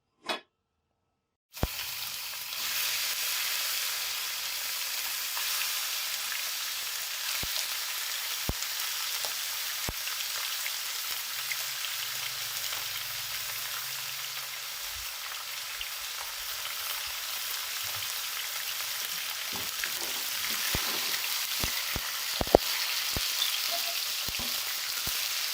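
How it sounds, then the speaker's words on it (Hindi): Boneless chicken meat frying in a pan, a dense, steady hiss of sizzling oil that starts suddenly after a brief silence and holds evenly throughout, with occasional faint clicks and no talking. "अभी हम पहले गोश्त फ्राई कर लेंगे।"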